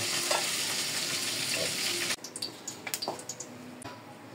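Garlic sautéing in a pan for chicken afritada: a loud, close hiss of frying oil that drops off and gives way to a few stirring scrapes and softer sizzling pops.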